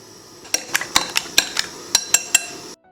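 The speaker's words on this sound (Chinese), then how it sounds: "碗内打入5个鸡蛋，搅散备用" Five eggs are beaten in a bowl, with a utensil striking the bowl in about ten quick, bright clinks over a couple of seconds, close and clear, before stopping.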